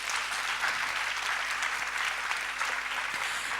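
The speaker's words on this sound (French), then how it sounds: "j'aimerais un maximum d'applaudissements" An audience at a national women's leadership conference applauds in honour of women leaders, a dense, even wash of clapping that holds steady throughout with no talk over it.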